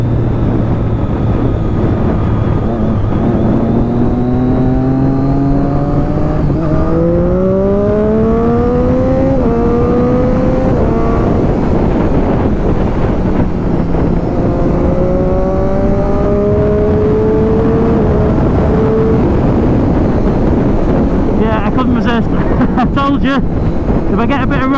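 A Triumph Daytona motorcycle is ridden hard on the Isle of Man TT course, its engine rising and falling through gear changes under heavy wind rush, loud and close, with a rider talking over it.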